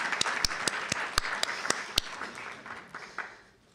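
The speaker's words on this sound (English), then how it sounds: "Let's give them a round of applause to encourage them to come out." An audience at a food-system panel discussion gives scattered applause: a handful of sharp, distinct claps over a soft wash of clapping that thins and fades out after about three seconds.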